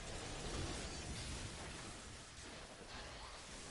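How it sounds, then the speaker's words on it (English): Thunder and lightning strike in the Destiny 2 video game, a dense, roaring rumble of broadband noise that holds loud and steady throughout, with no voices over it. "Ooh, lightning strike."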